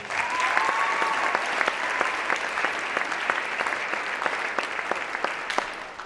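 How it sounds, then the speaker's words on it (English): Audience applause at a Christmas carol show, steady clapping from a crowd filling the whole stretch at moderate loudness, with a brief whistle-like tone early on. "Let's give her a round of applause."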